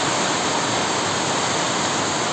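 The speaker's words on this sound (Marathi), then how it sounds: "हे पण पाण्याचा आवाज" Rainwater runs and splashes steadily during a downpour, a loud continuous rushing wash with no breaks, filling the whole moment.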